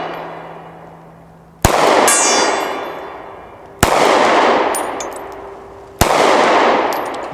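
Three loud Sig P365 pistol shots at long range, spaced about two seconds apart, each sharp crack followed by a ringing metallic clang from a struck steel target that fades slowly before the next shot.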